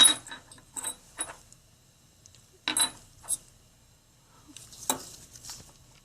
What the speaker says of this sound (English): Then you can just clean it up a little bit with the hoe again.